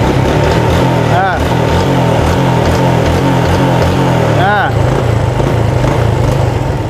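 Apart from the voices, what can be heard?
Yamaha Jupiter motorcycle engine revving after repair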